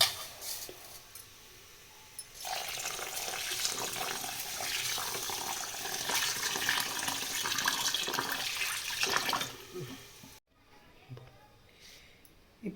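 Water pouring from a tap over rice in a pot to soak it for biryani, a steady rushing stream lasting several seconds before cutting off, followed by faint handling sounds.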